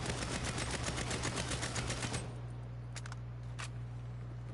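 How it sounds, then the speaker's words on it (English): AK small arms fire in a video game rattles as a fast, loud automatic burst for about two seconds, then stops, followed by a few sharp metallic clinks. "let's use the AK small arms fire"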